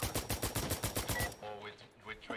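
Rapid automatic gunfire bursts out at close range in Insurgency: Sandstorm, about a dozen evenly spaced loud shots in quick succession, then stops, leaving echoing tails and brief voice-like fragments.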